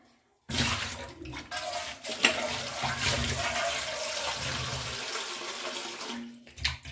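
Running tap water pours steadily over mushrooms being washed, a continuous close splashing rush that starts abruptly and carries on with small handling noises, no talk.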